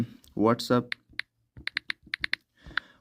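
Typing a search into the Play Store on a device, with a brief spoken phrase first, then a rapid run of crisp, close key taps in uneven bursts.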